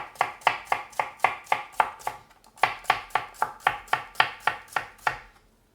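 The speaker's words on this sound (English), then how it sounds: "And some of the cucumber, I cut it in the middle." A knife chops through cucumber on a board in a steady rhythm of about twenty crisp, evenly spaced cuts, close and clear, with one brief pause before the chopping resumes and then stops.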